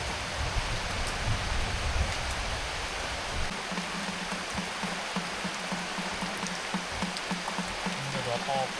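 Wind and rain lash an outdoor rural homestead: a continuous close hiss of rainfall with low, gusty rumbling underneath that shifts partway through.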